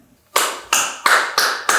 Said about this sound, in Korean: 인턴과 유사 인간들 서로를 향한 축하의 박수를 치며 즐거워한다